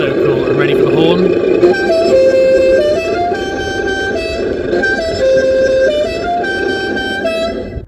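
A Tamiya Grand Hauler RC truck sound module sounds its simulated air horn outdoors in a series of loud, stepped, multi-tone toots that shift pitch several times before cutting off abruptly.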